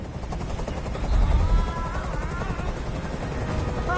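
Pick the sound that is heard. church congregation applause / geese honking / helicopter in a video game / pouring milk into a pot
helicopter in a video game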